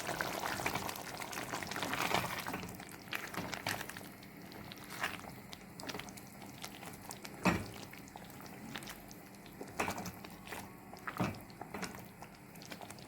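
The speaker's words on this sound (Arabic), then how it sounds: "ودي الكفتة سبتها طبعا تغلي مع بعضها" Rice kofta simmering together in a pot of liquid, a steady low bubbling hiss throughout with a few sharper clinks and splashes standing out, close and moderately quiet with no talking.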